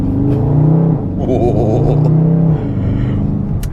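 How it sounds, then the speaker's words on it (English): A 2022 Dodge Charger Scat Pack Daytona Hemi V8 accelerating from inside the car, a loud rising engine note that dips with a gear change and climbs again, with a voice briefly speaking over it. "But let's try another acceleration here"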